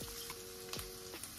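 Ginger and garlic paste frying in hot oil, a soft, quiet sizzle with occasional stirring clicks and a steady faint hum in the background.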